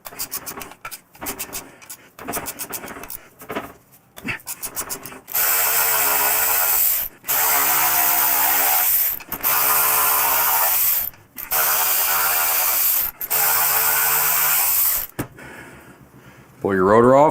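Power driver removing Torx 40 brake rotor bolts from a fat tire e-bike wheel, several loud whirring bursts of a few seconds each with brief pauses, after some earlier clicking and handling noises.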